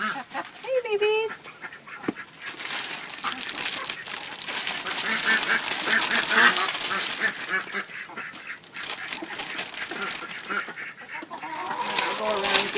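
Ducks quack and honk close by while being handed snacks, with several birds calling in overlapping bursts throughout; people talk over them.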